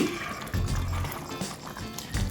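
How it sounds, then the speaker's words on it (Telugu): A pot of green chili curry (mirchi ka salan) is stirred from the bottom with a spoon, making soft wet sloshing and scraping bursts that repeat unevenly at close range. "ఒక్కసారి దీన్నైతే నేను కదుపుతున్నాను కింద నుంచి"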